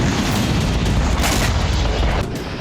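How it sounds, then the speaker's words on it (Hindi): Russian Su-25 fighter jet missile strikes in Donetsk, heard as a continuous loud, dense roar of booming blasts and rumbling fire with no pauses, close and overwhelming. "डोनेस्क में रूसी Su-25 फाइटर जेट ने इस तरह से मिसाइलों की"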